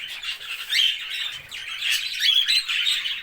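Caged birds chirping close by in a steady stream of high, overlapping tweets and trills, with no voices.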